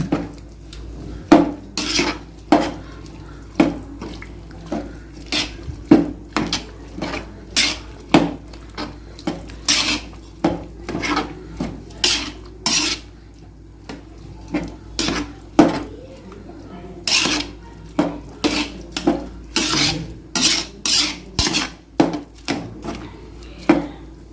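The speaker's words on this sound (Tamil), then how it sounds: "சேர்த்த அப்புறம் நல்லா கிளறி விடுங்க" A pot of vegetable biryani with mint and coriander is stirred with a spoon, giving a long run of sharp clanks and scrapes against the pot in an uneven rhythm, close and loud.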